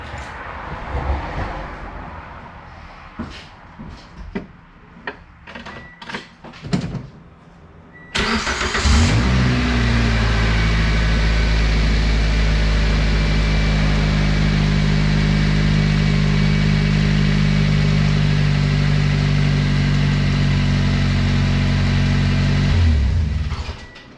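A car engine is started right after an oil change: scattered clicks and handling noises, then the engine catches with a loud burst and settles into a steady, close idle for about fifteen seconds before shutting off.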